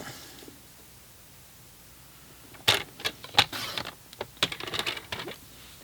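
Stampin' Up! designer series pattern paper trimmed to 14 by 14 on a paper trimmer, heard as a quiet pause followed by a burst of close, crisp clicks and a sliding cut.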